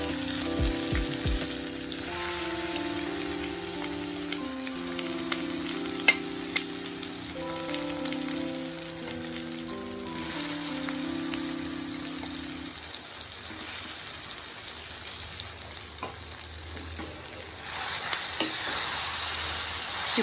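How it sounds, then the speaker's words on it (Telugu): Raw mango chutney being stirred with a hot tempering in a pan: soft, steady sizzling with light scraping and stirring, while gentle music plays quietly in the background. "ఈ పోపు అంతా బాగా కలిసేటట్టు కలిపేసుకుంటే సరిపోతుంది"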